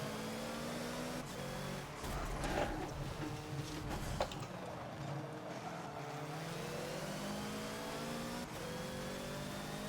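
Hoonigan Ford Focus race car in the Forza video game, lapping Brands Hatch in traffic: a loud, steady engine drone with revving and gear changes, continuous throughout with a brief burst of tire noise near the middle.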